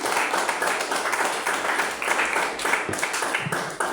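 Congregation at an evangelical church service clapping in praise, a dense continuous wash of many hands held at steady loudness for the full four seconds with no voices over it.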